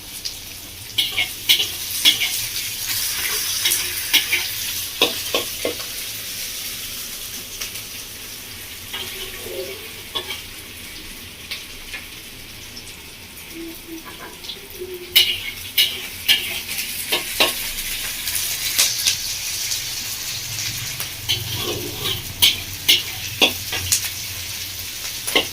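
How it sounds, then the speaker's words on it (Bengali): Onions frying in a pan for a Bengali-style baigan masala curry, with oil sizzling steadily and a spoon scraping and stirring in scattered bursts, close and fairly loud, plus occasional clinks and water sounds. "পেঁয়াজটা খুব ভালো করে ভেজে নেব।"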